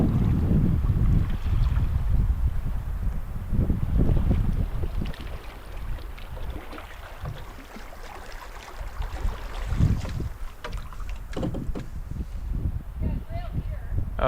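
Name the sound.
wind blowing while paddling on a wilderness river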